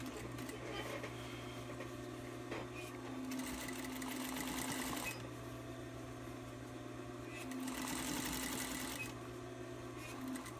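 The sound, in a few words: sewing machine stitching fabric panel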